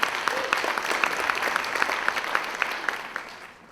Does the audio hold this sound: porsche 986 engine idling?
no